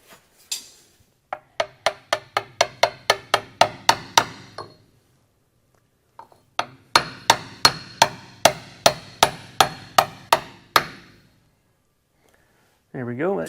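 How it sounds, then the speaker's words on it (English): A big socket serves as a seal driver on a 1971 Highboy Dana 44 yoke, and a hammer strikes it in two quick runs of sharp metallic blows, loud and close. A voice is heard briefly at the end. "So I have a big socket here for my seal driver, so we can get it in there all nice and even."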